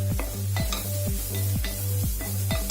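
Onions fry with garam masala in a pan, stirred in a steady rhythm of repeated scraping strokes over a continuous close sizzle, with no voices.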